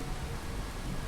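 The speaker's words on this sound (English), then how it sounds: "At the moment you can't actually tell that it's raining because it's so bloody foggy." Steady rain in the video game Fallout 4 on a foggy in-game day, a constant dense hiss of falling water that fills the whole stretch evenly, with no voices over it.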